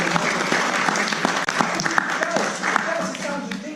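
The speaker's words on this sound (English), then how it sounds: "round of applause. Come on." A class bursts into a dense round of clapping that carries on steadily for several seconds, with voices mixed in.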